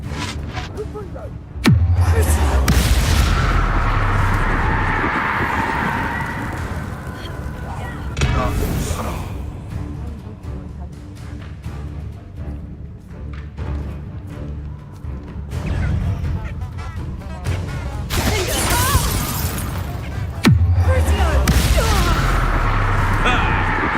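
Reducto and Confringo spells blast during combat in the Hogwarts Legacy video game, giving repeated heavy booming impacts with rumbling tails across the fight, separated by quieter stretches, with a voice calling out over the action.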